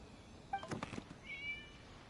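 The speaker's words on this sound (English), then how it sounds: "It was just a cat." A cat in the video game Genshin Impact gives a faint, short meow over quiet background ambience, followed by a soft, thin whining tone.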